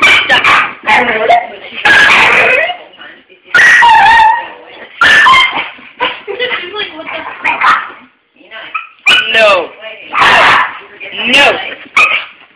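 A Boston terrier and a pit bull whimper, yip and bark in repeated close bursts, with people talking over and between the dog sounds.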